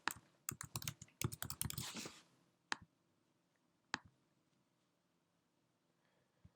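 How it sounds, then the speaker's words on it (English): Quick bursts of close computer keyboard typing, a rapid run of light clicking keystrokes for about two seconds, then a couple of isolated key taps in near silence. "I'm going to type in worldwide"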